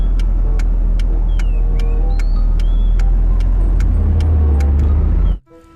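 A toy car steering wheel plays a loud electronic car engine sound, a steady low rumble with high-pitched beeps and chirps on top, that cuts off abruptly near the end.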